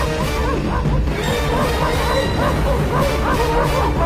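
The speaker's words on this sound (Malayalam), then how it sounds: "അയ്യോ പട്ടികൾ, ജീവൻ വേണമെങ്കിൽ ഓടിക്കോ." Dogs bark and yip loudly in a Malayalam cartoon, layered with crashes and whimpers in a busy, continuous soundtrack.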